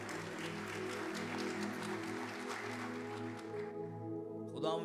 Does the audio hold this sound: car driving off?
no